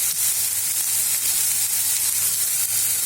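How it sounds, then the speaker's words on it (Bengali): Chopped tomatoes fry in a pan with a loud, dense, even sizzle that hisses continuously throughout, close up and with no voices. "টমেটো কুচি দিয়ে নেও আবারও অল্প সময় ভাজুমো"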